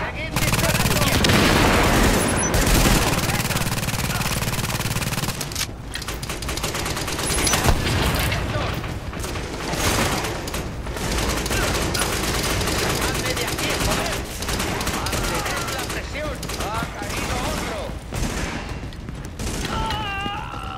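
Sustained gunfire from The Division video game on Xbox One, with dense overlapping bursts and automatic fire rattling almost continuously, loud and close, under occasional game voices.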